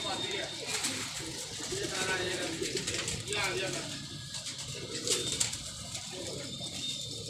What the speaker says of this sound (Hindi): यहाँ बड़े कबूतर आते हैं भाईजान